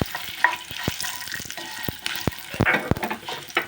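Dried red chillies for a flaxseed spice powder fry in a pan, with soft sizzling broken by sharp scraping taps and knocks of a stirring spoon, close by.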